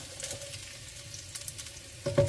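Food frying in a pan while cooking chicken with pineapple, a faint soft sizzle with occasional stirring clicks, swelling briefly louder near the end.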